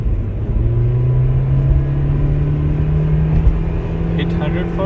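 A car accelerates on a highway on-ramp in Peterborough to merge with traffic, giving a steady, loud engine drone and road rumble heard from inside the cabin for several seconds.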